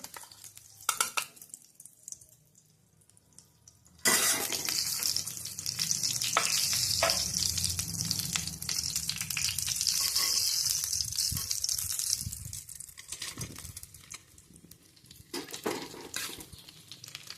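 Dry fruits roasting in ghee for a traditional Ganesh Chaturthi wheat kheer: after a quiet start with a few clinks, a loud, sustained sizzle breaks out and runs for several seconds with scattered stirring taps, then dies back toward near quiet.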